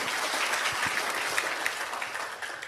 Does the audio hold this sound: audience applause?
yes